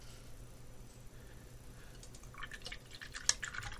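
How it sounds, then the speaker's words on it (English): Water dripping into acrylic paint on a palette to thin a minty green mix, with a few soft, quiet drips and light liquid sounds building near the end over a faint background hiss. "add the water to thin it slightly."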